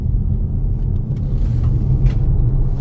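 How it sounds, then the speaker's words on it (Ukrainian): Polestar 2 electric car accelerating on the road, a steady low rumble of tyre and road noise with a faint rising whine, heard from inside the cabin with no talking. "зараз десь спробуємо трішки її розігнати."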